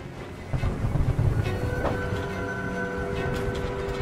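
The monster train Charles from the horror game Choo Choo Charles gives off a heavy, continuous rumble with droning tonal lines over a windy roar, swelling louder after a quieter start.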